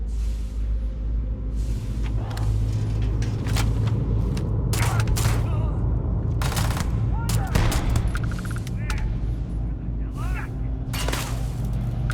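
Gunfire in the space game Starfield during an attack on a loading bay, with repeated sharp bursts and shots scattered through a steady low drone, loud and close, with brief voices in between.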